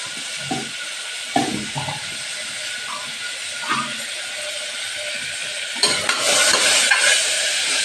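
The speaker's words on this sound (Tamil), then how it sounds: "தாளிச்சு விட போகிறேன்" Curry leaves, tomato and onion hit hot oil in a pan while tempering for a kuzhambu, giving a loud, close sizzle with scattered clinks and stirring knocks. The frying swells into a stronger, hissing burst near the end.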